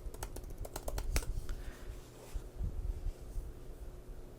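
Keys on a Mac keyboard are tapped in a quick burst of close, crisp clicks as a password is entered, then a few scattered presses follow in a quiet room.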